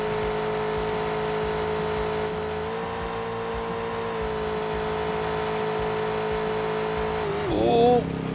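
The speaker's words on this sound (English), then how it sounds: "Blew the engine." Racing-game car engine holding a steady high-revving drone, then sputtering and warbling as it blows near the end, with a brief squeal.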